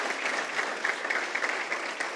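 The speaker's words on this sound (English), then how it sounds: "please, a round of applause for this amazing team" An audience at a leadership award ceremony applauds, a dense, steady clatter of many hands clapping throughout, with no talk over it.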